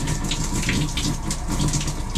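Shower spraying steadily inside the bathroom of a Solitude 390 RK RV, a continuous close hiss of falling water filling the small space with no breaks and no talking.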